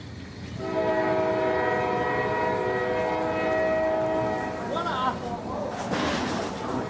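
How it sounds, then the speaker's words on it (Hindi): A train pulls into a station at night, with a long, loud horn blast sustained for several seconds over rumbling rail noise, followed by squealing brakes. "रात के सन्नाटे में रेलगाड़ी ने जैसे ही स्टेशन पर ठहरने की कोशिश की"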